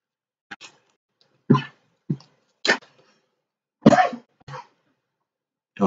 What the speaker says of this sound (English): Oh, I keep coughing my brains out over here.